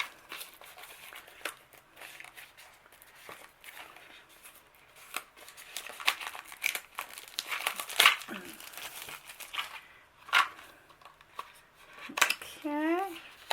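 Paper wrapping on a package of craft stickers is opened close by in scattered crinkling bursts, with light handling clatter and a brief squeaky sound near the end.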